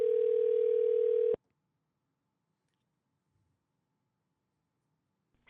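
A dial tone rings steadily for about a second and a half on an unanswered phone call, then cuts off abruptly into near silence.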